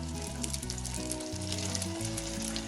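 Aloo tikki patties, some plain and some dipped in egg, sizzle steadily in a hot frying pan, a continuous close crackle with tuneful music playing underneath throughout.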